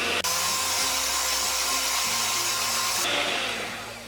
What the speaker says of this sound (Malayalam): ഈ വിപ്പിംഗ് ക്രീം ഒരു ബൗളിലേക്ക് ഇട്ടിട്ട് നല്ലോണം ഒന്ന് ബീറ്റ് ചെയ്തെടുക്കാം